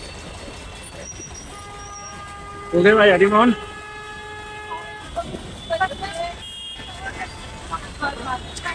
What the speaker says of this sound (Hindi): बैकग्राउंड नॉइज बहुत आ रही है, ये देखिए मेट्रो।